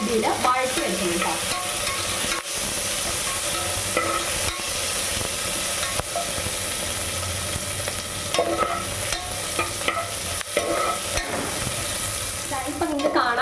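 Sizzling of green chillies, ginger and garlic frying in a pan, continuous loud crackle broken by repeated spatula scrapes and stirring knocks throughout.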